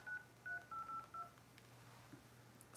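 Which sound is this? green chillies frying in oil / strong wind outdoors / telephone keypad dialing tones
telephone keypad dialing tones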